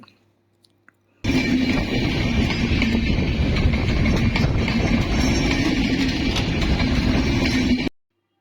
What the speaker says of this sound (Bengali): এই ট্রেন দেখুন বন্ধুরা এটা হচ্ছে ঢাকা থেকে ছেড়ে আসা একটি আন্তনগর ট্রেন